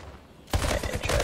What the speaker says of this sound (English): That shotgun's insane!